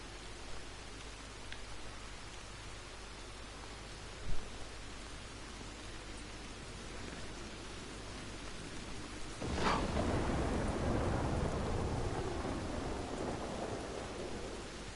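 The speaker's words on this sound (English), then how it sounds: "Lightning sounds like it's going to strike." Rain falls steadily in a Red Dead Redemption 2 storm, with a brief knock of distant thunder before a sharp crack near the midpoint and a louder rumbling roll that lingers under the rain. No one speaks.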